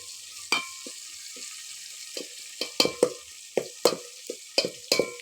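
Fish curry simmering in a home pan, with a steady low sizzle beneath a series of sharp stirring scrapes and clinks that come every half second or so.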